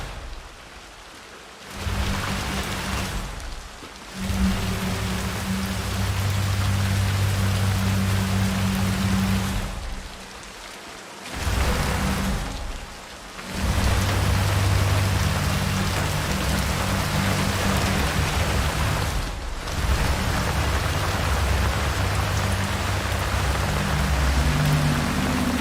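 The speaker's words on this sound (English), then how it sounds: "No, and the rain again." Rain pours in the Hitman 3 video game, a loud, steady hiss of downpour that cuts out abruptly several times and resumes, with low rumbling tones running underneath.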